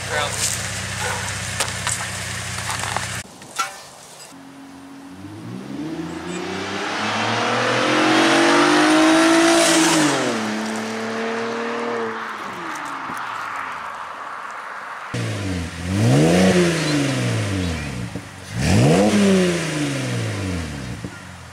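A Pontiac G8 exhaust revs hard several times, rising and falling in pitch, loud and close, with a steady idle between the blips.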